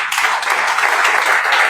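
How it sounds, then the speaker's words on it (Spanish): A church congregation applauding during a Spanish-language service, a steady, dense wash of clapping from many hands that holds at an even, loud level throughout. "Den un aplauso fuerte a Cristo."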